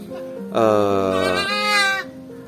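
A Jawa lempit goat, a large floppy-eared breed, lets out one loud, close bleat lasting about a second and a half, with a wavering tone and a faint steady hum behind it.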